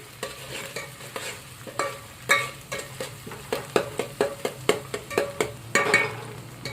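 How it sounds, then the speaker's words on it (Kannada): Hot oil sizzling steadily in a pan while frying ingredients for tomato rice, with repeated clinks and scrapes of a stirring spoon against the pan, close up and without talk. "ಸೊ ಕೆಂಪಗಾಗತ್ತಾನ ಒಂದು ಸ್ವಲ್ಪ ಫ್ರೈ ಮಾಡ್ಕೊಂಡು ಆಮೇಲೆ ನಾನು ಇದಕ್ಕೆ ಟಮಾಟೆ ಹಾಕೋತೀನಿ ರೀ"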